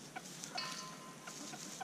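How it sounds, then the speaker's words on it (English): Male chickens clucking outdoors at a family home, a few soft, fairly distant clucks over a constant hiss of background noise. "Because they're boy chickens."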